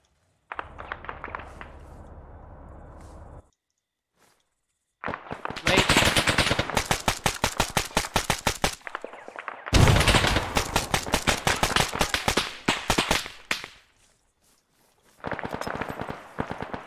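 Automatic weapon fire in an Arma firefight, long rattling bursts close and loud, broken by short pauses, with a steady mechanical drone at the start and a final burst near the end.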